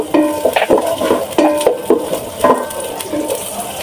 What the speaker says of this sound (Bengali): সবজিগুলা বেজে নিতে পারেন এখন কুচিগুলা বেজে নিব গন্ধ চলে যাওয়া পর্যন্ত বেজে নিব